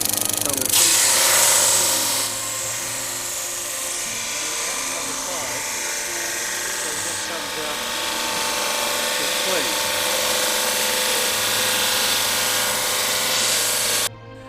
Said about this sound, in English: what we're going to do now is feed it into our sander